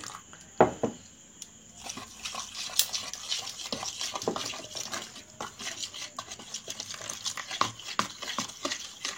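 A spoon stirs cornflour into water in a bowl to make a batter, with repeated soft scraping and light clinking strokes at a quiet, steady rhythm and no talking.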